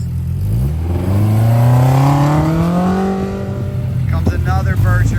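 A West Coast Electric Polaris RZR off-road race vehicle in desert racing qualifying sweeps past with a rising, then falling engine drone, loud and close, and a voice talks over it.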